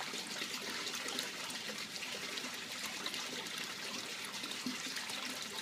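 Water drains steadily through an aquaponics bell siphon in a continuous rushing trickle, close and even, with no voices.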